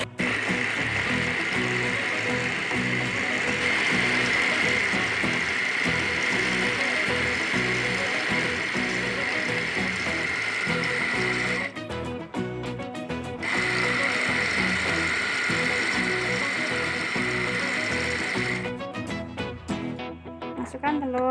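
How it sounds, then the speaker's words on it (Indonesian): A blender whirs loudly and steadily, grinding lobster meatball ingredients with seasoning, sugar and salt. The motor cuts out briefly around the middle before starting again for several more seconds, then stops near the end. "Kita blender semua bahan."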